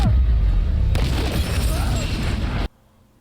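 An anime attack called Exploding Star goes off as a loud, booming blast with a rumbling roar. A second surge follows, then the sound cuts off abruptly into near silence.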